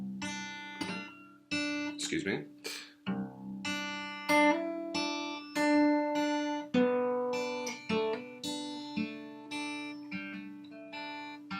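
A guitar plays the riff of a song slowly, with separate plucked and hammered-on notes ringing one after another at a moderate volume. A brief spoken word breaks in once.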